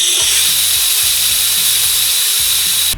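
Leftover steam hisses loudly and steadily from a release valve on a homemade steam-powered motorcycle, a continuous high rush with low mechanical pulsing underneath.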